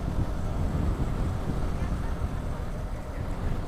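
Strong wind buffets the microphone during a night motorcycle ride on the Dhaka–Tangail highway, a dense, continuous low roar with no distinct events.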